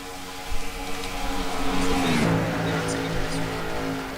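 Pack of stock cars racing past in NASCAR Racing 2003 at Talladega, a steady layered engine drone that swells as the field approaches, peaking midway with a rising whine, then holding loud and continuous.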